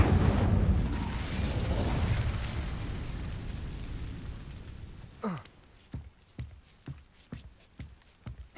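The Incendio fire spell in Hogwarts Legacy bursts into a loud roaring rush that slowly fades, then a quick whoosh is followed by a series of footsteps.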